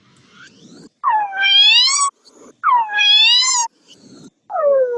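A human voice mimics a cat's meow: three long, rising-and-falling wailing meows spaced about a second apart, close and clear, with soft breathy sounds between them.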